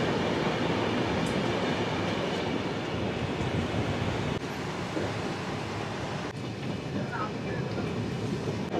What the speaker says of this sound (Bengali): ট্রেন এখন স্লো স্লো যাচ্ছে, আস্তে আস্তে যাচ্ছে।